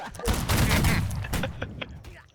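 Nearby, a Napoleonic-era reenactment unit fires a ceremonial rifle volley on command at a promotion ceremony, giving one loud, ragged burst of overlapping black-powder shots that rumbles and echoes for over a second before fading.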